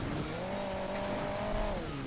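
A buggy engine in the mobile racing game Hill Climb Racing 2 revs hard while driven recklessly, a sustained droning whine that climbs and holds, then drops away; no talk.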